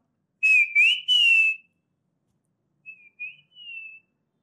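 A man whistles an imitation of the common iora's call: three close, clear whistled notes, then a pause and three fainter, shorter notes, with no other sound.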